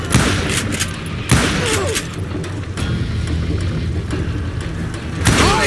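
Gunshots in the Western shooter Call of Juarez: Gunslinger, a few sharp loud cracks spaced out, at about one, three and five seconds, with a low rumble of game ambience between them.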